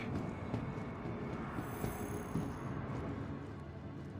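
A train in the video game Star Citizen rolls on with a steady, dense rumbling hum, even and unbroken throughout, with no voices over it.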